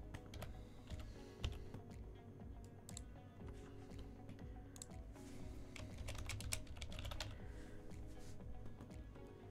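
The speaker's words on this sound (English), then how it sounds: "once you type in the email address that you want to associate your account to" Someone types an email address on a computer keyboard, giving a quick, irregular run of soft key clicks over a low steady room hum, faint and close.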